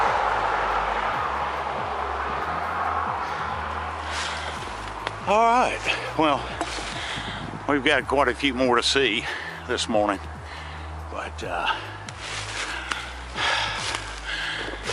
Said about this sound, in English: we're way above a busy road, so that's why you hear a lot of traffic in the background